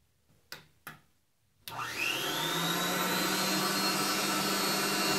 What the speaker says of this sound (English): but I'm going to show you the vacuum first